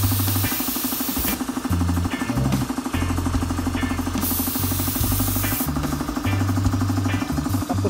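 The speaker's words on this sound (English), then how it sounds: "yung maliit na compressor ng Vespa" A small compressor taken from a Vespa runs continuously close by during spray painting of a DIY tour case, giving a loud, rapid, pulsing mechanical chug with a hissing edge.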